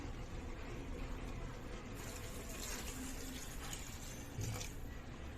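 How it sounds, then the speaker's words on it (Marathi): Hot water poured into a pot of village-style spicy mutton rassa, a steady close gush and splash of liquid that fills the whole moment without a break. "आता मी याच्यात गरम पाणी घालून घेतलंय"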